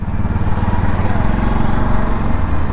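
Bajaj Pulsar NS200 motorcycle riding through city traffic, its engine a steady, loud low rumble held close throughout with slight rises and falls, no one talking.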